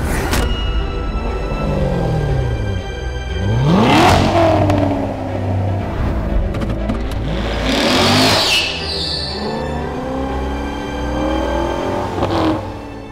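A Corvette Stingray's 6.2-liter pushrod V8 revs loud and close, climbing and falling through several sweeping accelerations and gear changes over a constant rumble, with no talking.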